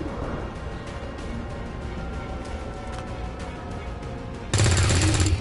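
A single loud, sharp rifle shot fired by a soldier in the video game XCOM 2 bursts in near the end, after a stretch of steady game ambience.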